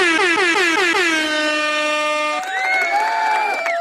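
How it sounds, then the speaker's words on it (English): A loud multi-tone air horn blares in a long sustained blast, its pitch sagging at first and then holding steady, before a crowd's cheering and whoops take over near the end. "hit the horn"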